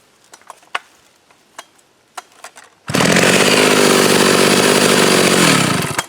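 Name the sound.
chainsaw restarting and running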